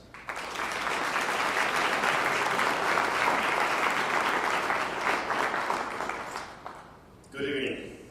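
Sustained applause from an audience at the 2014 Delaware STEM Educator Awards, steady and full for about seven seconds before fading, followed by a brief voice.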